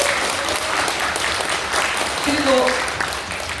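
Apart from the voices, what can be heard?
audience applause at a book launch event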